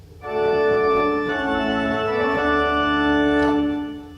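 Bright full organ tutti with 4-foot and 2-foot principals added, loud sustained chords that shift a few times before fading out at the end, no talking.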